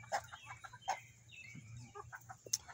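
Winston the rooster gives soft, scattered clucks and short calls close by in a chicken yard, quiet and irregular, with no voices.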